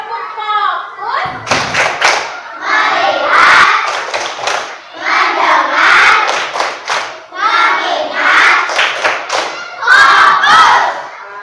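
A school class performs the 'tepuk fokus' clapping chant together, children's voices shouting in rhythm between bursts of sharp group claps, loud and close, repeating in several phrases.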